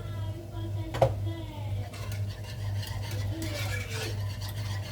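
A spoon stirs a thickening sauce seasoned with sweet pepper, salt and black pepper in a pot, giving soft scraping and clinking strokes over a low steady hum, with a sharp knock early on.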